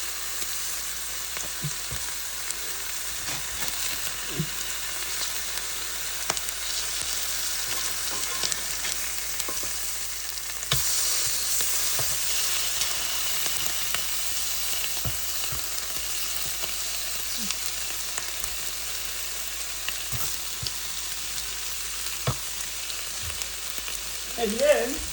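A ham quesadilla sizzles steadily in a frying pan, a constant close hiss broken by occasional scrapes and taps of a utensil, with no voices.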